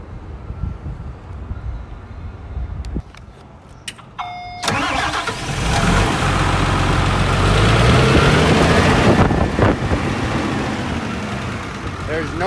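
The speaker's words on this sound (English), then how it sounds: "This is a turbocharged Tier 3 engine." A Case CX350B excavator's turbocharged 271-horsepower Tier 3 engine starts and settles into a loud, steady diesel rumble, heard up close with a brief mechanical chirp before the engine catches.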